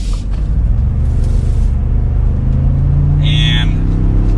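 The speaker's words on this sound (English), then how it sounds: "Let's give it a little bit of gas with an empty truck here." An empty 2022 Ford F-150 pickup truck's engine rumbles loudly from the cabin, its low drone rising steadily in pitch as it accelerates, with a brief higher whine near the end.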